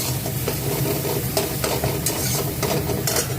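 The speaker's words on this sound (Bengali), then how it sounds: "দেখো আস্তে আস্তে তেল মশলাগুলো ছেড়ে যাচ্ছে, তারপরে আমাদের মশলা কষানোটা" Spices sautéing in oil for a paneer and cauliflower curry give a steady close sizzle, with repeated scraping stirs cutting through the frying hiss and no voices.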